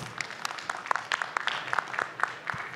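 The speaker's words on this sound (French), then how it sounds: "je crois qu'on peut déjà les applaudir une première fois" Conference audience at an aerospace industry event clapping, a sparse patter of individual claps spread across the room for a few seconds, with no one speaking.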